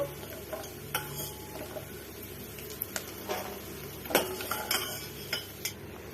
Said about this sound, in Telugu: చూడండి ఇలా తెల్లగా వచ్చేదాకా అయితే వేపుకోవాలి